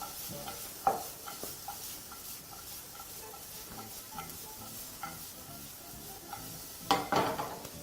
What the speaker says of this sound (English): Now proceed to toss everything together.